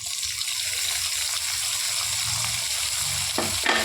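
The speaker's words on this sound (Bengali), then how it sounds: "জোহা চালটা দিয়ে একটু নেড়ে হালকা যখন চালটা ভাজা হয়ে যাবে" Soaked joha rice being stirred into fried potatoes in a hot pan for a Bengali dish, giving a steady, close sizzle throughout, with a louder scraping stir near the end.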